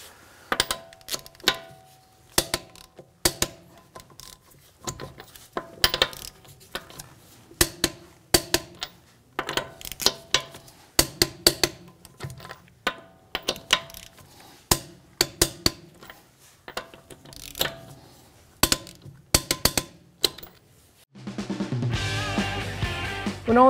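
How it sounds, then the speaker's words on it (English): A torque wrench tightens the lug nuts on a 2015-2019 Hyundai Sonata front wheel during a brake job, giving a series of sharp, close metallic clicks in uneven bursts, followed at the end by a different sustained noise. "we're gonna go ahead and torque our lug nuts to 75 foot-pounds"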